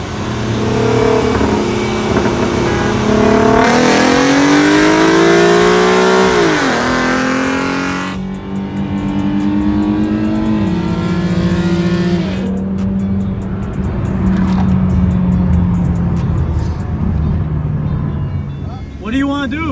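Cars rev hard and race at an auto meet, including a Mustang with a 3.7 engine, with loud rising engine roars, gear changes and tire squeal, and voices over the noise throughout.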